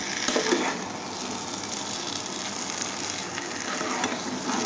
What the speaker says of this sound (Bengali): এটা আমি এখন কষায় নিতেছি